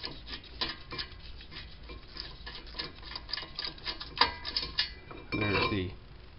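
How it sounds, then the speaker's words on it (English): On a 2010 Mini Cooper brake job, the bottom bolt of the brake bracket is taken out with a string of close, quick metallic clicks and ratcheting ticks, ending in a short louder rattling burst. "So I remove the bottom bolt."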